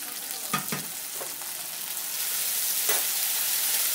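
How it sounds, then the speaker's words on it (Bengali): Garlic and ginger paste sizzles in hot oil over softened fried onions while being stirred, a steady close crackle with a few sharp scraping clicks of the spoon against the pan. "ভালো করে এটা তেলের মধ্যে নেড়ে নিলাম।"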